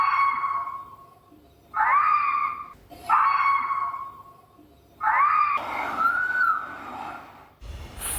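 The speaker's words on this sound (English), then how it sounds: "Fox barks and yelps." A fox lets out a series of high, screaming yelps and barks, four or five loud calls in close succession with short silent gaps between them.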